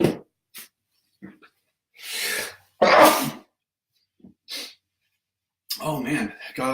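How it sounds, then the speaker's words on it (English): One person sneezes loudly in short bursts with breathy gasps between them, and there is some speech around the sneezes. "I'm totally going to sneeze."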